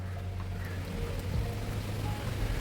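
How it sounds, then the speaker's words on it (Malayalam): Rain falls steadily, making an even, broadband hiss with a soft patter that continues without letup over the short stretch. No one speaks. "മഴ വരുന്നുണ്ട്."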